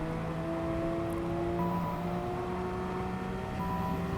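Racing car engines in Gran Turismo 7 at Road Atlanta, with a Porsche Spyder and Ferraris in the pack, producing a steady, sustained tonal engine drone with held, humming pitches and no talk.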